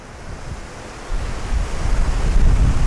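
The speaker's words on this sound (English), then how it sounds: "it's going to be a bit interesting because it is very windy" Strong gusty wind buffets the microphone at the waterside, with surf washing in beneath it; the gusts build and grow louder toward the end, with no talking.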